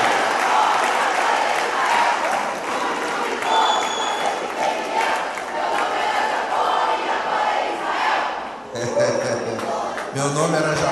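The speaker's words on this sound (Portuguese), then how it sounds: "Isso, vão aplaudindo até que o último entre." A church congregation applauds as people arrive at a gathering, with broad continuous clapping and crowd noise and voices mixed in, before the sound breaks up near the end.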